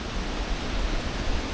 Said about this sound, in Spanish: Sonido de cascada